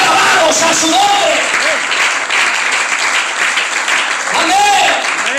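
A church congregation bursts into loud, sustained applause, dense clapping filling the room from start to finish with a few cheering voices rising over it.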